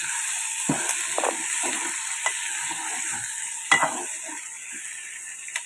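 Green chilies fry in a pan for an egg and tomato curry under a soft, steady sizzle. Irregular spoon scrapes and taps from stirring punctuate it, one noticeably louder clack near the end, and no voices are present.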